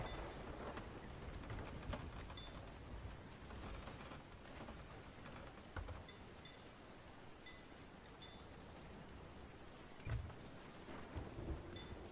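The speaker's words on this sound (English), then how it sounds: "The storm's moving away" A thunderstorm at sea in the Sea of Thieves game: constant rain hiss with several deep rumbles and cracks of thunder, one sharp clap standing out near the end, and no speech.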